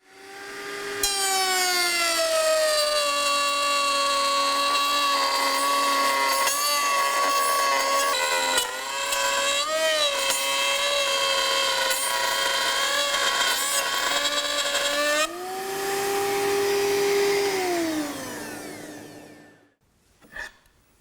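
A wood router fitted with a half-inch bit cuts a groove for a benchtop tool chest, its loud steady whine rising and dipping in pitch under load for about fifteen seconds before spinning down and stopping.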